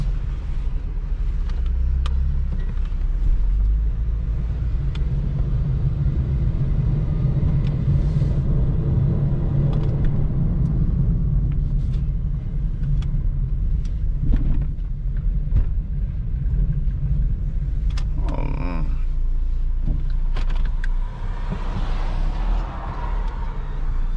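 An Acura TL drives along with a steady low rumble of engine and road noise inside the cabin, constant throughout, with faint clicks and brief rattles over the top.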